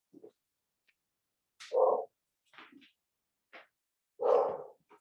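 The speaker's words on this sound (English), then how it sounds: "Sorry, my dog is barking." A dog barks several times in short, separate bursts, moderately close, with quiet gaps between barks and no talking.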